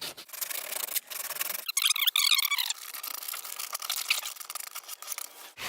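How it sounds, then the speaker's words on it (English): Sandpaper rasps steadily against a Toe Pro coating on a hockey skate, using coarse P80 grit, a close, continuous scratchy rubbing with brief pauses between strokes and no talking. "So once it's totally dry, you're gonna go ahead and just start sanding."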